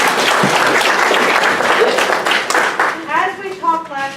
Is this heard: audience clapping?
yes